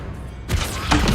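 Descendo slam spell cast in Hogwarts Legacy, a sudden broadband whoosh and impact that starts partway in and rings on loudly to the end, a low thud underneath.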